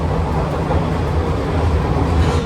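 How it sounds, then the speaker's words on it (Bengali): An AC EMU local train arriving at Ranaghat Junction, West Bengal, a steady, fairly loud low rumble and whoosh of the moving train heard from inside, with no voices. "এসি ইএমইউ লোকাল প্রবেশ করলো রানাঘাট জংশনে"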